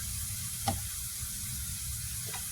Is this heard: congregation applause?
no